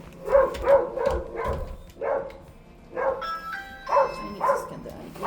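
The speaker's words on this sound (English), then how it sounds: "Oh, there is a dog." A dog at a delivery house barks repeatedly in a steady series of loud, close woofs, about eight barks in a few seconds.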